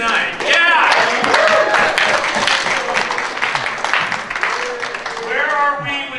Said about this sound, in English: you guys need to give yourself a round of applause